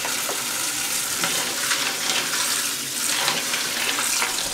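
Tap water running steadily into a kitchen container to soak beans, a close, loud, continuous splashing hiss that stays constant throughout.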